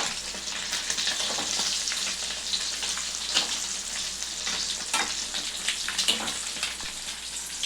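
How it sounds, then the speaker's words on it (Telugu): Eggs frying in oil until browned for an egg mustard pickle, a steady close crackling sizzle running throughout with occasional louder pops and spatters, no talking. "ఇట్లా అన్నీ ఇట్లా బ్రౌన్ కలర్ అయ్యేంత వరకు వేయించుకోవాలండి"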